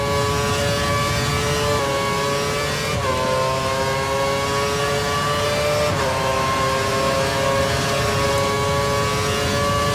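Formula 1 car in the F1 2013 racing game held at full revs, a loud sustained high-pitched engine whine with stepped pitch shifts as gears change, continuous across the whole stretch with no voices.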